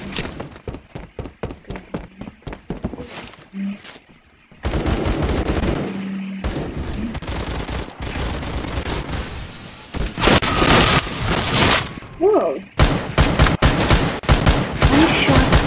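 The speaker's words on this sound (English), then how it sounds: "Whoa! I shot Goldman guy." Pistol gunfire in a shooter game, rapid bursts of close shots with several louder, denser volleys and some booms, and a little talk between them.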